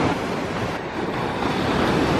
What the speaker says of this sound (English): the waves are huge at that point